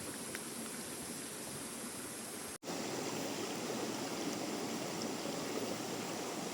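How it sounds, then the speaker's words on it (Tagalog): A stream on hilly farmland in Barangay Bagong Silang, Real, Quezon, forming a natural bathing spot, rushes steadily with a dense, even hiss of flowing water, briefly cut by a short dropout. "Batis."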